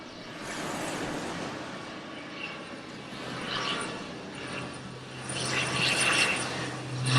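Seaplanes droning overhead above Hulhumalé beach in the Maldives, a steady distant engine roar that swells louder toward the end over wind and open outdoor ambience.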